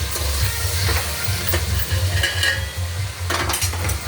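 Tomato chutney stirred in a pan, a low bubbling simmer with soft sizzling and a few scraping strokes of a utensil, close and fairly loud, without speech.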